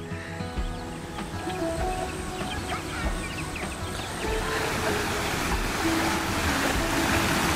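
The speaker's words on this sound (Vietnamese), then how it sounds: "lúc nào mình cũng nghe cái tiếng suối chảy xa xa" A mountain stream near Sapa, Vietnam flows continuously with a broad, churning hiss, growing slightly louder toward the end, with no voices.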